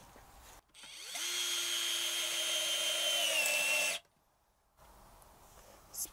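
A Niteo 12V cordless drill drives a screw into a wooden board: one steady, loud motor whine lasting about three seconds with a slight pitch drop near the end, then it stops cleanly.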